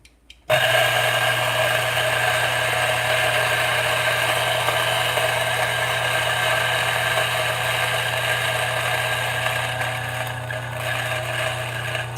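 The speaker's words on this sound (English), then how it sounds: "I'm using the DF64 this morning. Usually it takes about, like 13-14 seconds to grind." A Turin DF64 espresso grinder grinds coffee beans, its motor starting after a brief moment and then whirring steadily and loudly for about twelve seconds without any talk.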